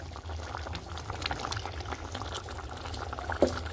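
Fish curry bubbling in a pot over a wood-fire stove, a steady low simmering and bubbling texture throughout with one brief sharper pop near the end.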